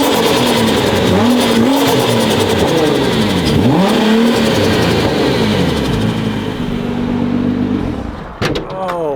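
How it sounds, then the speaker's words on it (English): Turbocharged JDM Nissan GT-R engine pulling hard while driving, loud continuous revving that rises and falls through gear changes, with boost whooshes and a brief lift-off flutter near the end. "All the cars make such good noises when you actually drive them too, so this one's got some real good boosty noises."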